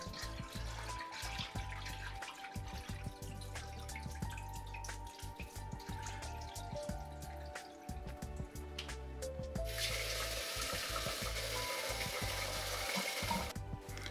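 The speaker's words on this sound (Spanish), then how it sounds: "El arroz trae mucho almidón y lo lavaremos cambiándole el agua varias veces." Water is changed repeatedly while sushi rice is washed in a bowl, with running tap water, splashing and trickling, and a stronger gush of pouring near the end, at a faint, close level without talk.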